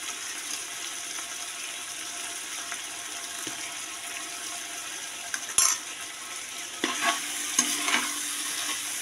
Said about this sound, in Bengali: আমি এখন 15 মিনিট ভালো করে মাংসটাকে একটু বেশ নাড়বো।